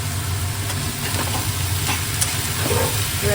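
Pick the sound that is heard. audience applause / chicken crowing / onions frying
onions frying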